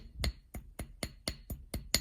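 A hammer taps a small wire-wrap piece resting on a 1 lb anvil, eight sharp metallic strikes spaced evenly about a quarter second apart, close and ringing briefly.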